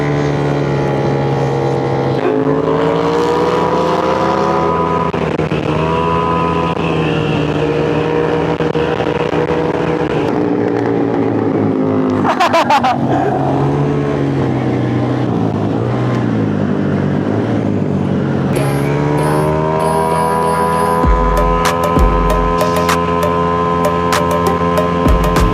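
A Honda Click 185 scooter engine revs hard at high RPM on a ride, a steady droning whine that climbs and falls in pitch, close and continuous, with wind noise throughout.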